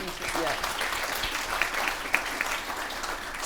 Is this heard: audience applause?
yes